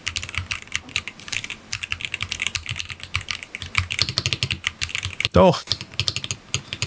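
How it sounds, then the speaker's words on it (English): Fast, high-pitched clacking from typing on a ROG Azoth wireless gaming keyboard fitted with PVT keycaps, a close, dense run of keystrokes with a brief voiced exclamation near the end. "This is the ROG Azoth. It's more of like a different register. Very high pitched."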